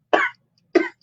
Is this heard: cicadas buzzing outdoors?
no